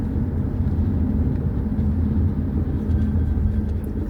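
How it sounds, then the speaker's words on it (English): A jet airplane passes over a quiet wooded nature park with a creek, heard as a steady, loud low rumble that holds evenly throughout with no voices. "and then you hear a jet screech by."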